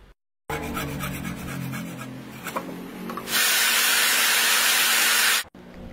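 A bicycle spoke, shaped into a pin for a rear motorcycle shock repair, being cut: scraping and rubbing strokes give way to a loud, steady rasping hiss for about two seconds, then stop abruptly.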